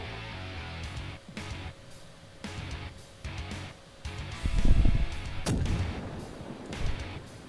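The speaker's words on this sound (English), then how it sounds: "they're shooting at our destroyer" Heavy artillery booms land around a destroyer in a naval battle video game, with a few deep thuds and one sharp crack amid steady background rumble.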